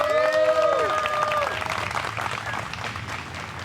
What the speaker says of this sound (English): Let's hear a round of applause for Juliana Korver